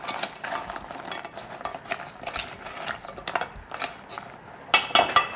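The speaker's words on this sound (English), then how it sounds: "I will just mix with this syrup" Fried Korean honey cookies (yakgwa) mixed into sticky syrup, with repeated wet clacks and scrapes of a utensil against the bowl in an irregular rhythm, close and moderately loud.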